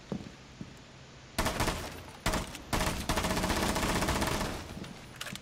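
Gunfire in Rainbow Six Siege comes first as a few sharp isolated shots, then as sustained rapid automatic bursts, loud and close, with no voices.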